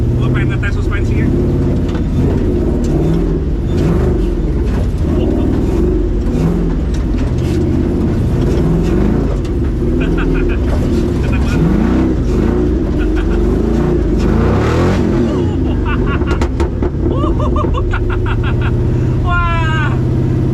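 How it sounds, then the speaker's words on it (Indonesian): A V8 engine in a tubular Ultra4 off-road racer revs above 3000 RPM during off-road driving near a water crossing, a loud, steady, close engine roar that lasts throughout, with voices talking over it. "begitu gua gas agak tinggian, RPM-nya udah di atas 3000-an. Suara aslinya V8 mulai keluar."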